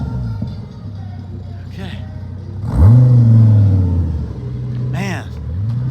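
Fancy cars pass on a street, one engine swelling into a loud, low revving rumble as it goes by near the middle, with quieter traffic noise around it and someone speaking briefly.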